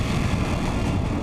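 Military drones fly over the Ladakh mountains at about 15,000 feet, their loud, steady engine drone filling the air without a break and with no voices.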